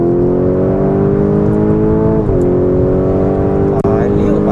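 A 2023 Lamborghini Huracan Tecnica accelerates hard down a straight at Sepang circuit, its engine a loud, steady, rising drone from inside the car with a brief shift dip midway.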